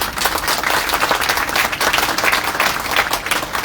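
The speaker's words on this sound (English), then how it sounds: "I want you all to give a round of applause to our local media" Dense, loud audience applause at a formal UN Day celebration, steady and continuous throughout with no speech over it.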